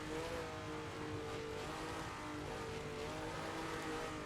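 A 1967 Ferrari 312 race car engine on the wet Nürburgring Nordschleife, a loud, steady drone held close throughout with no breaks, like continuous on-board engine noise under wind and road roar.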